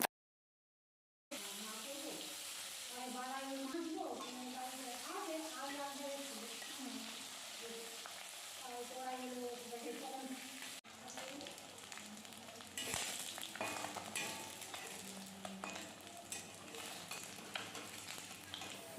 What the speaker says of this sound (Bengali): তারপর তেলের মধ্যে দিয়ে মাছটাকে ভেজে নিতে হবে